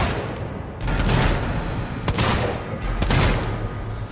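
Several sharp, booming revolver gunshots in the video game Alien: Isolation fire in quick succession over a dense, noisy background, with a few distinct cracks standing out.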